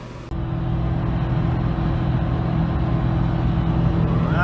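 A Detroit Silver 4-53T turbo diesel with compound turbos pulls hard at full throttle, locked in fourth gear on an 8% grade, a loud steady drone that starts abruptly and holds constant throughout.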